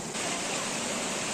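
Las Dudas waterfall in Azuay gives a steady, loud rush of falling water, a dense unbroken roar that stays close and constant throughout, with no voices.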